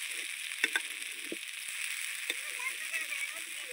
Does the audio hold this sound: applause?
no